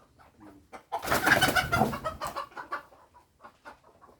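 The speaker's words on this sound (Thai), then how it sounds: "ไก่นะครับ ไก่ก็มีไก่ก็เยอะนะครับ ตอนเช้า" Chickens cluck and squawk in the morning at a village home in Ban Kho, Yasothon, Thailand, a loud flurry of close calls that then trails off into scattered softer clucks.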